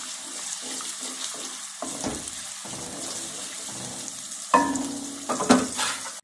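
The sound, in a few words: finely chopped onions frying in hot ghee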